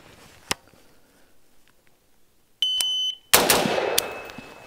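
Single sharp gunshots from a pink MU-15 AR-15 rifle crack out, one early and then a louder close report, separated by an electronic shot timer's steady beep and a bright ringing tail, with no talk.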